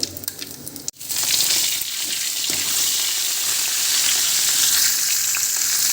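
A sharp burst of loud, crackling sizzle begins after a brief thump, then continues as steady, hissing frying of a spice tempering in hot oil.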